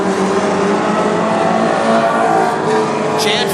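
WISSOTA modified race cars circle the North Central Speedway track, a dense, steady roar of several engines with a faint tire squeal near the end, loud and continuous.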